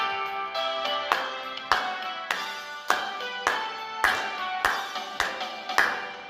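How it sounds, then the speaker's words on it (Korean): A church congregation at a Korean Christian drivers' mission monthly worship service claps firmly in steady time along with a sung hymn, the sharp claps loud and close over the music. "힘차게 박수 치면서 찬양 드리겠습니다"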